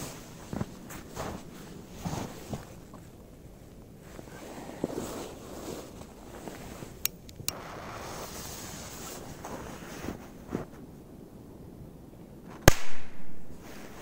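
A Korsar 1 firecracker goes off outdoors as a single sharp, loud bang near the end, after a stretch of gusty wind noise and faint handling sounds.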